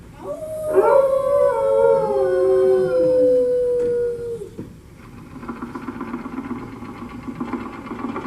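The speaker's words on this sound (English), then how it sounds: "using that old exercise machine she rescued from the attic" A long wavering howl gives way to a steady mechanical whirring drone, like an old exercise machine running at a constant pace, in Walt Disney's Carousel of Progress attraction.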